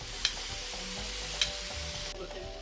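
Pre-cooked pork pigtail sizzling on an outdoor barbecue at a family lime in Trinidad, a steady loud hiss of frying fat with a couple of sharp pops and crackles, close up.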